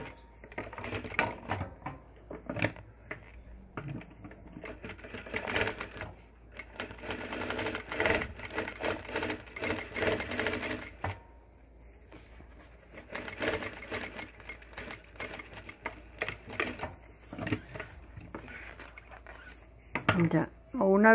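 A sewing machine stitches the straps of a tailored jacket, running in loud bursts of rapid stitching separated by short pauses, with a voice speaking over parts of it.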